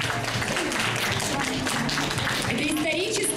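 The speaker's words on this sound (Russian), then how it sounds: "Под гром аплодисментов," Audience applause in a hall at a Finno-Ugric peoples open-mic event, a dense, steady wash of clapping that runs the whole time with voices talking over it.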